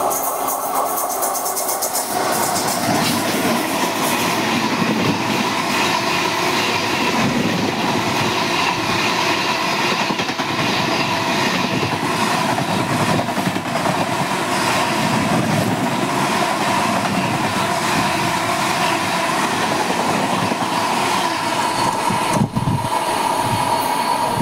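Mayiladuthurai–Coimbatore Jan Shatabdi Express crossing on the Delta line, a loud, continuous rumble of rolling wagons with rhythmic clickety-clack and occasional wheel squeal sustained throughout, no voices.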